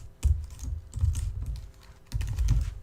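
Swift code being typed on a computer keyboard during iOS app programming, with bursts of close, clattering keystrokes in quick irregular runs separated by brief pauses.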